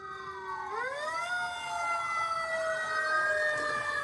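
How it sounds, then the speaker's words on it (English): A fire alarm siren sound effect begins with a steady tone, then sweeps upward into a sustained, wavering electronic wail at moderate loudness, with no voices over it. "Let's restart the fire alarm."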